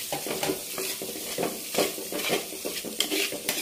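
Chopped onions and green chillies sautéing in a pan for a Kerala-style prawn roast, with a steady close sizzle broken by repeated scrapes and stirs of a spoon against the pan, and no talking.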